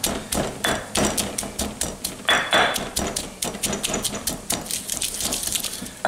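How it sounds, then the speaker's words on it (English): Garlic is smashed into a paste in a kitchen, a steady run of close, sharp knocking and thudding strikes in a quick uneven rhythm, fairly quiet, with no talk over it. "We're going to smash it until it's a nice paste."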